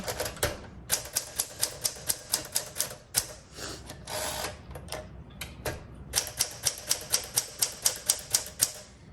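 A 1962 Smith Corona Sterling manual typewriter is typed on up close, with rapid runs of crisp key strikes, a brief pause partway through and a quick burst of even clacks toward the end.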